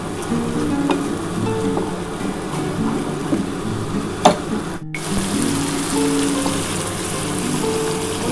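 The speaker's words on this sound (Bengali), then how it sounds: "বন্ধুরা দেখো আমি কিন্তু খুব ভালো করে মশলাটা কষিয়ে নিচ্ছি" Spice paste with ground green chili being stir-fried in oil for a katla fish dish with poppy seed and cashew, a steady close sizzle with faint stirring scrapes throughout and one brief sharp knock midway.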